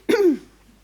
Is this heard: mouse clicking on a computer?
no